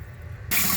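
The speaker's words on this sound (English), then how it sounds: "You have to rinse your rice very well until the water runs clear." A tap suddenly opens and water gushes loudly and steadily into a pot of rice being rinsed, a close, bright splashing rush with no voices.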